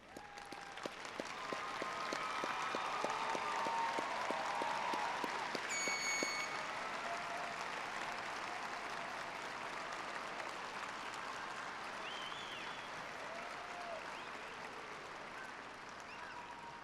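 A large graduation-ceremony audience applauds the graduates' mothers and fathers, with steady, dense clapping that swells early and holds for a long stretch, plus scattered cheers and faint whistles in the crowd.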